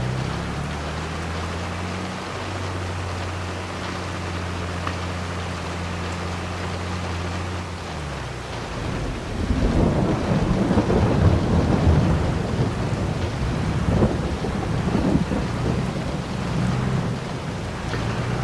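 Rain and rumbling thunder in the video game Farming Simulator 22 during a harvest: a low droning machine hum fades out as a loud, steady downpour with rolling thunder swells and continues to the end.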